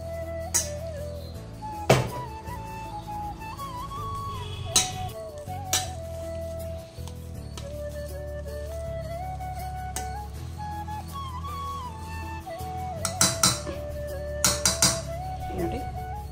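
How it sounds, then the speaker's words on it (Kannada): A masher smashes soft boiled potatoes in a metal vessel, with steady squishing strokes and scattered sharp clinks of metal against the pot, set under a continuous background tone. "ಈಗ ಈ ಥರ ಒಂದು ಸ್ಮ್ಯಾಶರಿಂದ ಆಲೂಗಡ್ಡೆ ಚೆನ್ನಾಗಿ ಬೆಂದಿರೋದ್ರಿಂದ ಬೇಗ ಸ್ಮ್ಯಾಶ್ ಆಗುತ್ತೆ."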